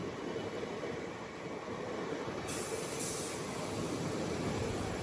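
Guntur Rayagada Express passenger train rolling along the rails, a steady loud rumble of wheels and carriage noise with a faint high whine, continuous throughout with no talk.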